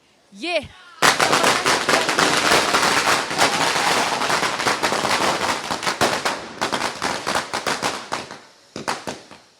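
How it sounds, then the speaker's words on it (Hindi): Diwali firecrackers burst in a dense, loud barrage of rapid crackling pops, thinning into scattered bangs toward the end, with a short whistling rise at the start and a voice underneath. "अचानक से बम फटने शुरू हो जाते हैं"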